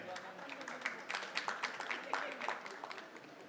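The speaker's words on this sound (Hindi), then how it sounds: "जोरदार तालियां हो जाओ भाई के लिए यार" Applause for a pair called up on stage at the GCL launch event, a lively mix of scattered claps and crowd noise with several sharp peaks, steady throughout under people talking.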